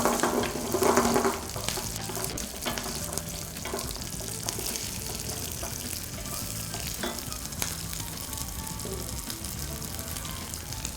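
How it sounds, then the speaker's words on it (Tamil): Green chilies sauté in hot oil with dried chilies and curry leaves for a brinjal fish curry, a steady crackling sizzle with a louder burst early on, occasional stirring clinks, no talk. "கொஞ்சம் இந்த பச்சை மிளகாய் நல்லா சாத்தே ஆகட்டும்"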